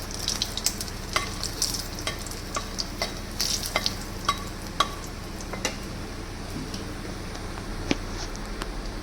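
Dried chillies, bay leaves, cardamom and cinnamon frying in hot oil, with a steady soft sizzle broken by sharp scattered pops and crackles, close up and with no speech.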